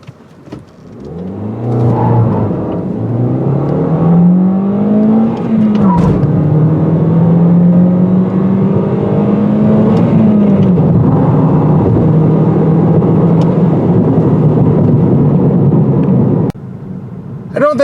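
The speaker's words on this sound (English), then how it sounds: "This 2-liter is quick enough, especially when you're rolling through the gears in this manual transmission." A 2019 Toyota Corolla Hatchback with a 2-liter engine and six-speed manual accelerates hard, engine note climbing, dropping at each gear change and climbing again, loud and close for most of the clip before cutting off near the end.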